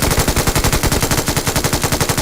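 Automatic gunfire sprays in PUBG Mobile, a loud, rapid, evenly spaced burst of shots that runs continuously without pause, close and dominant with no voices.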